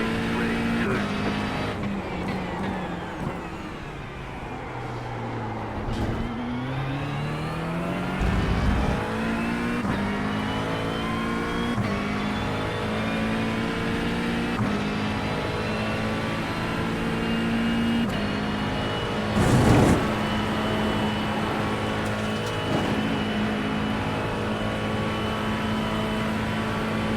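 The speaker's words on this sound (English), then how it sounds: "the Ferrari does handle very good through here." A Ferrari driving at speed gives a steady loud engine drone that rises and falls through gear changes and acceleration, heard continuously and near, with occasional talk over it.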